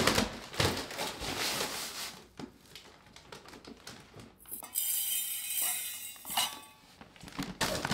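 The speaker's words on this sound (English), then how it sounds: "I grabbed a 1/2 gallon mason jar and a spoon and my canning funnel" A metal spoon clinks and taps inside a half-gallon glass mason jar fitted with a canning funnel, a series of close, sharp, irregular chinks with small rattles between them.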